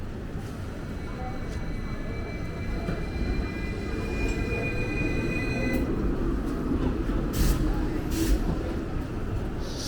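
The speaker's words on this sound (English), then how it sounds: "Oh, a tram is coming." A tram rolls along Chun Yeung Street in North Point, Hong Kong, a crowded market street, with a steady low rumble and faint squealing tones, plus a couple of brief clanks near the end. Voices can be heard in the surrounding street bustle.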